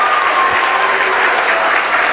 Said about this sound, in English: Standing ovation, folks, for this young man.